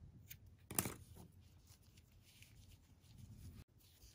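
Scissors snip through crochet yarn in one sharp close cut, followed by quieter handling rustles and soft faint scraping in a quiet room.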